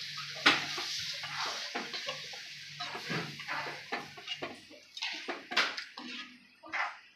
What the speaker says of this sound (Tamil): புளி கரைச்சி வச்சுருக்கேன், இந்த தண்ணி ஊற்றிக்கலாம்.